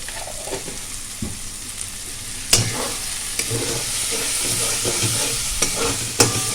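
Potato curry masala frying in oil with garam masala, a loud steady sizzle with intermittent scraping and knocks of a spoon stirring the pan, no voices.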